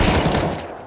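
Burst of rapid gunfire from Counter-Strike 2 gameplay, loud and dense for under a second, then quickly fading.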